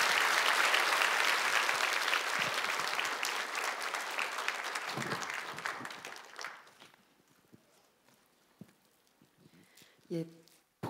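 A church congregation at a Seoul healing revival service bursts into loud, dense applause welcoming the pastor, sustained for about six seconds before thinning out to scattered claps and near-quiet.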